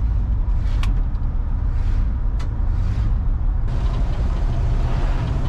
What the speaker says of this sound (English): Just driving an old camper special here